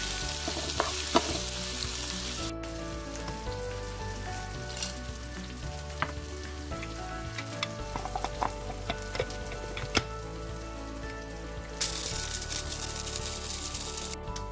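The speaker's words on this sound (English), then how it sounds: "I'm using a lot of sliced red onions, and we're going to saute this till we get it as nice and brown as possible." Plenty of sliced red onions sauté in a pan toward browning, giving a constant loud frying sizzle with scattered clicks and scrapes of stirring over the whole stretch, and no voices.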